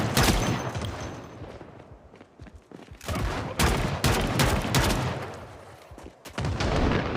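Gunfire in the video game Project Zomboid, several loud bursts of rapid shots in clusters separated by brief lulls, close and harsh, with no talking.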